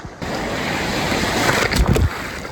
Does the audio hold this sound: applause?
no